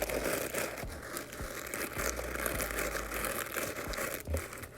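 A homemade balloon squishy is squeezed close up, giving steady crinkly, squelching rustles that run continuously at moderate level, with a brief louder squish near the end.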